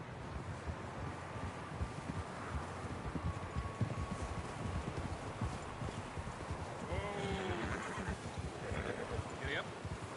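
Horse hooves clip-clop steadily in Red Dead Redemption 2 while a horse whinnies once or twice near the end, over wind and a busy outdoor bed, with voices talking.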